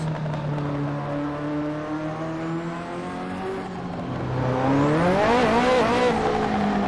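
A Ferrari F50 sports car on an open road, its engine note droning steadily through a gear, then swelling into a loud, rising rev as it accelerates hard, with a whooshing pitch sweep near the end.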